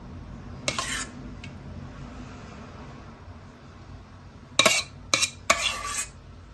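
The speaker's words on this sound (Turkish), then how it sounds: "Şimdi bir kaşık yardımıyla onu güzelce ne yayıyoruz." A spoon spreads béchamel sauce over pastitsio layered with spaghetti in a pan, giving a few short scraping clinks, one near the start and a cluster of three toward the end, over a low steady kitchen hum.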